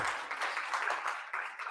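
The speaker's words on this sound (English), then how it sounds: "Can we give the NIPDB boss lady, Madam Jessica, another round of applause?" Brief burst of audience clapping at a business conference in Namibia, soft and somewhat distant, short and uneven.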